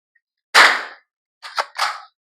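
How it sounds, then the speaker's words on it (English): A High Tower Armory MBS 22 rifle fires at steel targets on an outdoor range: one sharp, loud crack and then two quicker cracks, each followed by a short ringing tail. "we're going to hit some steel targets downrange."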